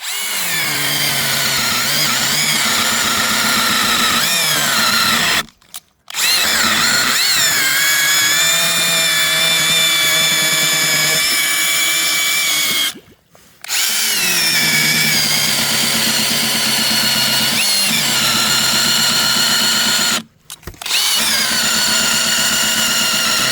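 A cordless battery-powered saw cuts through winter ice on a frozen river, a loud continuous whining buzz with shifting pitch that stops briefly three times before resuming.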